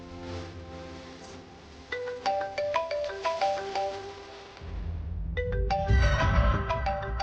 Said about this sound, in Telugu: ఈ టైంలో స్వామీజీ గారు ఫోన్ చేస్తున్నారంటే.